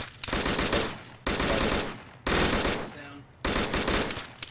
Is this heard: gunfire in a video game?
yes